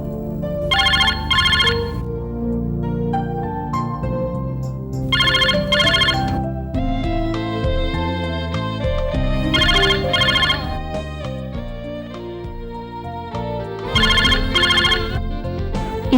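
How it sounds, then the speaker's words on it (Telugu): A mobile phone ringtone plays at a dinner scene in a Telugu TV serial, a melodic electronic tune repeating with bright, bell-like bursts every few seconds, steady and fairly loud throughout. "అంజలి, ఫోన్ చూడు."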